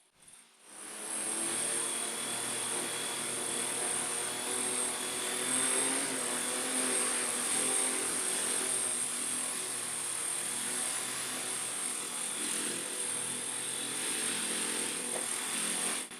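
A model V-22 Osprey tiltrotor aircraft flies nearby, giving off a steady, high electric whine with a buzzing rotor drone that holds level throughout.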